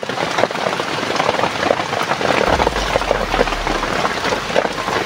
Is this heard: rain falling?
yes